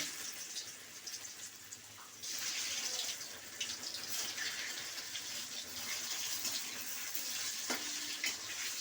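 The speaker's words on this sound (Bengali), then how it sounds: "এই তেলটা গরম হয়েছে, আমি এবার আলুগুলো একটু হালকা করে ভেজে নেব।" Potatoes frying lightly in hot oil for a Bengali vegetarian aloo dum, a steady broadband sizzle that swells louder after a couple of seconds and runs on, with no talking.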